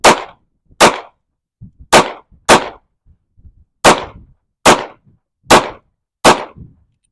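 Eight sharp, loud pistol shots ring out at an outdoor target on a windy day, fired roughly in pairs with short pauses between, each crack decaying quickly, with faint clicks in the gaps and no talking.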